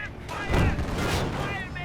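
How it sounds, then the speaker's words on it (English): Gunfire in a Company of Heroes battle, a dense cluster of loud shots and booming blasts peaking midway, with a continuous battlefield din throughout. "Gunfire."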